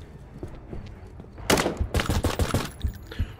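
Gunfire in the tactical police shooter Tactical Squad: SWAT Stories breaks out as a rapid string of loud, close shots after a quieter lead-in with faint taps.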